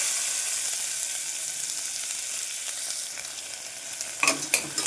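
A steady hiss of chopped onions sizzling in a hot pan, with a few scraping stirs near the end.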